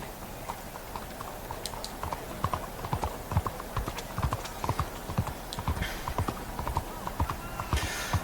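Horse hooves clip-clop at a walking pace in Red Dead Redemption 2, a steady rhythm of close, distinct hoofbeats over a faint outdoor background.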